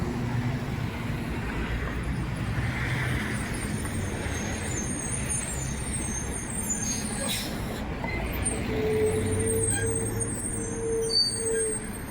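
A trash truck rolls past on a street, its heavy engine rumbling and air brakes hissing at a high pitch, with faint voices in the background.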